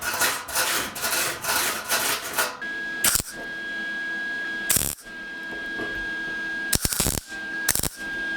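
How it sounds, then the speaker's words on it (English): Short bursts of welding tacks on a cracked steel panel of a 1969 VW Beetle, several sharp crackling spurts separated by pauses, with a steady high whine lingering between them and no talking. "let's go ahead and grab the welder real quick and put some tacks on them"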